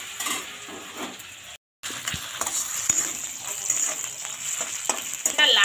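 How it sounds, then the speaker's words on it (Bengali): Carrots and potatoes fry in a pan and are stirred, giving a steady close sizzle with scraping strokes of the spoon throughout. "গাজর আর আলুটাকে ভাজতে লাগবে।"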